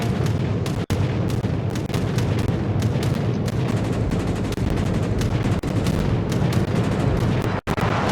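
Anti-aircraft guns fire in World of Warships, with a dense, steady barrage of rapid overlapping shots and booms rolling on without a break, loud and close.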